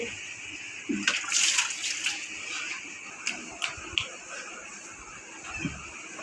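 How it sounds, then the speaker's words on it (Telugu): Water splashing and sloshing into a container while filling for household washing, an uneven run of pours and splatters with short knocks, close by, as someone talks quietly. "నీళ్ళు పట్టేసేది అయిపోయింది"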